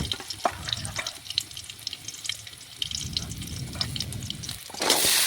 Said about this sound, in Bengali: আমি কেটে রেখেছি সজনে ডাঁটা, বেগুন, গাজর, আলু, সেগুলো তেলের মধ্যে দিয়ে দেব